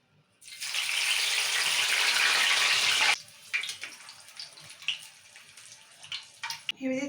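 Green chilies and curry leaves hit hot oil for a poha mixture, giving a loud, dense sizzle for about three seconds. It then drops to scattered crackles and pops.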